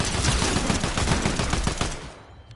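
An SMG fires a rapid, loud burst in the video game Fortnite, a dense run of quick cracking shots that tails off and cuts out at the end.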